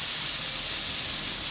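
A spoonful of margarine melting in a hot pan gives off a steady, dense sizzling hiss that runs without pause from start to finish, close and fairly loud, with no voices.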